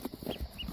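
Tiny fuzzy ducklings peep in a quick run of short, close chirps, fairly loud with no talking over them.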